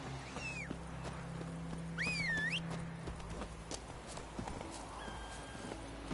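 Roach the horse's hooves clopping in The Witcher 3, a faint steady walking rhythm under game ambience, with a couple of high rising whinny-like calls near the start.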